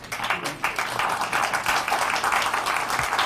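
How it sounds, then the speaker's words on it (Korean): Audience applauding at a political rally in Korea, a dense crowd clapping steadily and loudly for the whole stretch with no speech over it. "박수 한번 치십시오"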